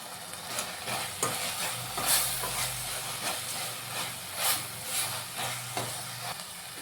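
Mushroom Ambur biryani masala with garam masala cooking in a pan, a steady close sizzle and hiss with stirring scrapes, with no talking.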